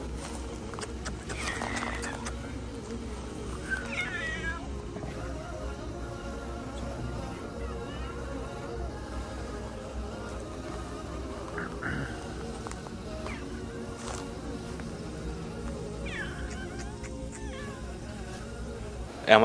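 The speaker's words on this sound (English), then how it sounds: "You can see a little cat over here." A small cat in a garden near the Prophet's Mosque in Madina meows a few times, the cries spaced apart and fairly faint against steady outdoor ambience.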